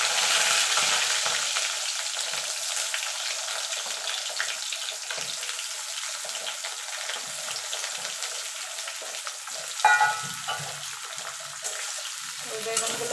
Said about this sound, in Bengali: এবার আমি বেগুনগুলো দিয়ে দেবো।